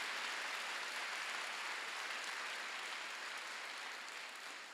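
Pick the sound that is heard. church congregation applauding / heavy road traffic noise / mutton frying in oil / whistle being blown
church congregation applauding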